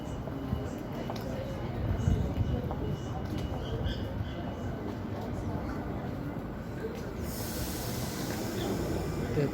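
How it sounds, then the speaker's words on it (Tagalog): A suburban train pulls into a station platform, a faint rumbling roll with hissing that builds toward a brighter rush near the end, while a person talks quietly. "the train is coming."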